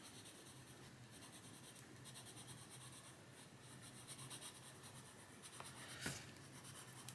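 Coloured pencil shading steadily over paper, a light pencil blending colours across a mandala page; a continuous soft, close scratchy rubbing with faint strokes, quiet and unbroken, no voices.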